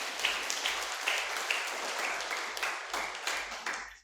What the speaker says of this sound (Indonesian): Mari kita berikan aplaus kepada mereka.